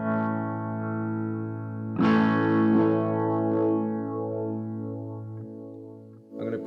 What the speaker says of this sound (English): I'm going to add some chorus in there maybe, or some phaser